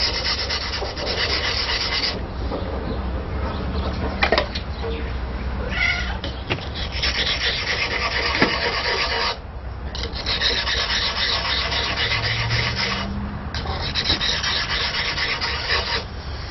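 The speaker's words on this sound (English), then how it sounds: "so that I'm grinding more on the blade itself" A knife blade being ground during hand knife making, a continuous coarse rasping and scraping that runs steadily with brief pauses and shifts in pressure, fairly close and loud throughout.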